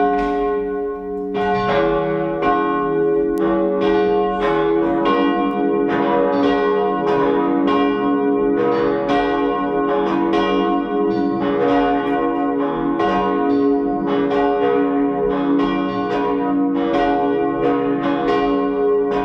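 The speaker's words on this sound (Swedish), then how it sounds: "Då ska vi snart lyssna till klockringningen." Cathedral church bells ring continuously in a steady, overlapping peal, loud and resonant, with no voices.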